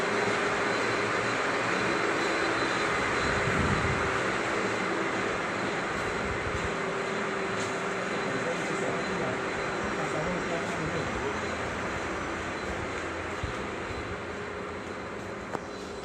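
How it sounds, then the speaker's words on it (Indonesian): Machines in a vocational school's tools and machining workshop all run at once, making a constant loud industrial drone and hum with occasional clanks, and voices can be heard faintly beneath it. "Memang agak sedikit bising karena mesin jalan semua ya"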